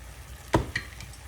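Penne chicken limone sauce with fresh lemon juice being stirred in a pan, a brief scrape of the spoon followed by a couple of softer swishes over a faint sizzle, close and quiet.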